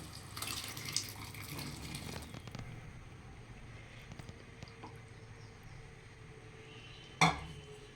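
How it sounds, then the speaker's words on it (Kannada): Boiled chickpeas are poured with their cooking water into a masala gravy in a kitchen pot, giving soft, quiet splashing with a few light metallic clinks and one sharper knock near the end, without speech. "ಕಡಲೆ ನಾವು ಬೇಯಿಸ್ಕೊಂಡು ಇಟ್ಕೊಂಡಿದ್ವಲ್ಲ ಅದನ್ನು ನೀರು ಸಮೇತನೇ ಆ್ಯಡ್ ಮಾಡ್ಕೊತೀನಿ ನಾನು"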